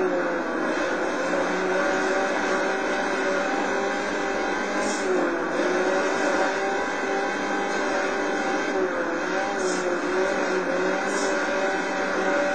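Off-road race car in the video game BAJA Edge of Control, engine droning loud and steady under feathered throttle, a continuous dense roar with slight surges and no talking.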